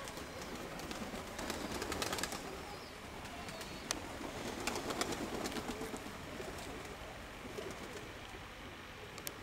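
Pigeons coo softly in a quiet outdoor spot, their low repeated calls drifting at moderate distance alongside faint chirps and a sharp click or two, with no talking.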